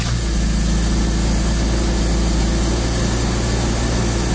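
A V12 car engine idles steadily and loudly close by after starting, a constant low rumble with a smooth mechanical drone and no talking.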